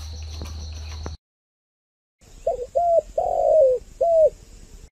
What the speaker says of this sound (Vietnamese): Yêu sao tiếng gáy chim cu